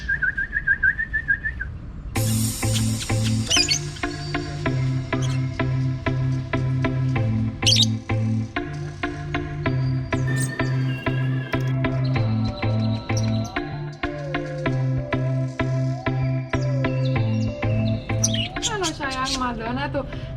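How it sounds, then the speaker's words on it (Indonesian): Pet lovebirds and parakeets chirp and whistle almost continuously, a busy chorus of high calls close by, with a person talking over much of it. "soalnya Madonna salah satu burung saya yang juara, sering banget juara."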